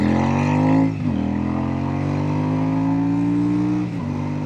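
Royal Enfield Super Meteor motorcycle engine revving loud and close, a deep steady drone that dips briefly twice as the throttle blips and then climbs back to a strong sustained roar.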